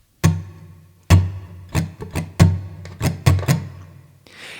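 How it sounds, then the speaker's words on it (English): Muted guitar strings strummed in a down, down, up, down, up pattern, giving eight or nine dull percussive chucks in a steady rhythm, close and fairly loud with no talking. "what I want us to do is mute our strings just to get down the right hand"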